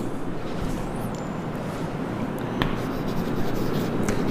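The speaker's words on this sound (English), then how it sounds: "I will write here." A pen scratches across paper in a continuous dry rustling stroke, close and moderately loud, with a faint airy background and no talking.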